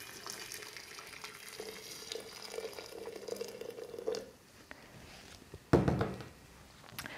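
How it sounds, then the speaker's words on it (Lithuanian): Hot water poured over tea leaves in a container to brew tea for kombucha: a steady, close pour runs for about four seconds, then a brief pause and a sharp clunk. "užpilkime karštų vandeniu."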